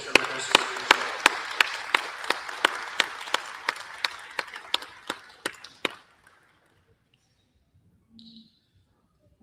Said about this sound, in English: give these exhibitors a round of applause